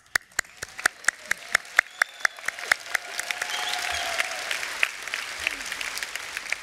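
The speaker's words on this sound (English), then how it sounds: "I'm going to applaud Scotland, actually." An audience at a UNISON trade union conference applauds Scotland, starting with a few sharp, separate claps that swell into a dense, sustained wash of crowd applause filling the hall.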